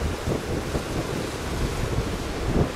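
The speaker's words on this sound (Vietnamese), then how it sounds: "Sóng quá trời lớn các bạn," Large ocean waves breaking at the harbor mouth of La Gi port as boats come in, a continuous heavy roar of surf mixed with buffeting wind noise, loud and close with no speech.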